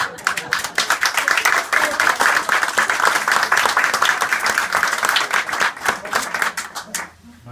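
Enthusiastic audience applause in a room, many hands clapping in a lively, uneven rhythm that stays strong for several seconds before dying away abruptly, with faint voices mixed in.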